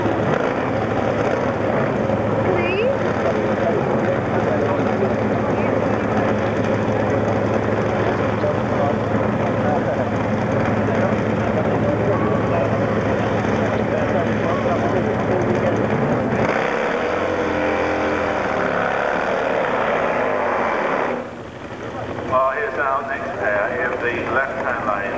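Harley-Davidson drag bike at the 1993 European Drag Bike Championship at Avon Park, a loud sustained engine roar down the strip that drops away near the end, with commentary over it.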